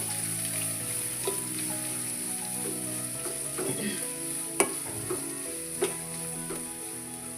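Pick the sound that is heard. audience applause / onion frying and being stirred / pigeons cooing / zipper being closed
onion frying and being stirred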